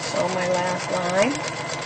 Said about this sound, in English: Sew my last line.